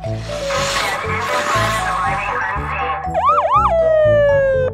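A toy fire truck siren wails loudly with a rising and falling electronic tone, then settles into a steady high whine, over upbeat background music.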